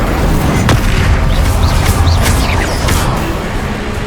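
A fire spell, Incendio, is cast in a magic duel in the video game Hogwarts Legacy, producing loud, close booming bursts and whooshes in quick succession with no talk.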